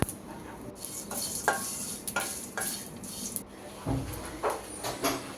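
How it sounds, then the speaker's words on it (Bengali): Whole spices and dried red chillies dry-roast in a pan for a homemade spice mix, stirred with repeated scraping and rustling strokes over a faint, low sizzle, close and moderately loud. "আর শুকনো মরিচও দিলাম, তো দুইটা আমি আলাদা করে ভেজে নিলাম।"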